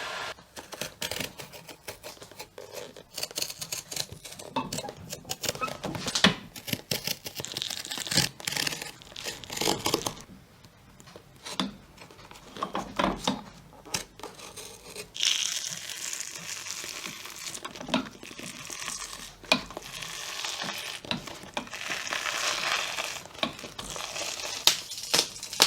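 A worn base plate with metal cleat anchors inside is pried and peeled off a FootJoy golf shoe after heating, giving repeated close tearing, crackling and crunching bursts over about 25 seconds, with brief pauses between pulls.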